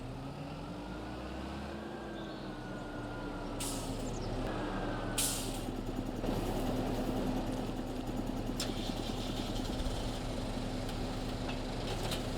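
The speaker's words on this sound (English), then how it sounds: "I will park the tractor right here for now" A parked tractor's engine idles with a steady low, throbbing drone, joined by a few short hissing bursts partway through.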